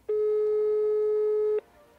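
A single steady telephone tone on a call to a friend, sounding loud and close as one continuous beep of about one and a half seconds, then stopping to near silence.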